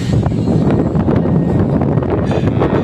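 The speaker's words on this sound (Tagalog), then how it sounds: "medyo malakas ang hangin dito" Strong wind buffets the microphone at a railway construction precast yard in Santa Rosa, Laguna, a loud, uneven low rumble with gusty bursts throughout.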